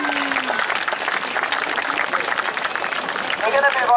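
Outdoor crowd applause at a bird of prey display at the Bournemouth Air Festival, steady dense clapping with voices mixed in, swelling slightly near the end.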